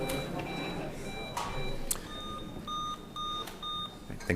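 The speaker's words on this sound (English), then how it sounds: "Let's have a buzzer check." Quiz bowl buzzer check at a tournament: a series of electronic beeps rings out one after another, clear and repeated, with a short tone held between them and soft background chatter.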